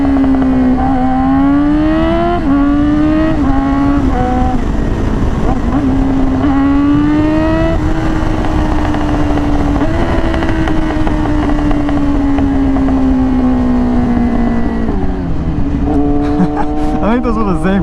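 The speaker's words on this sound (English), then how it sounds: "the downshifts too, go up to 6 so I can do every single downshift." A Yamaha R6 sport bike engine revs hard and steps down through downshifts, its loud, high-pitched whine rising and falling continuously and close by, with blips between gears near the end.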